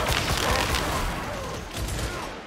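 Rapid gunfire in Warhammer 40k: Darktide, a dense, loud stream of overlapping shots and booms with a few clearer bursts, continuous for the whole stretch with no pause.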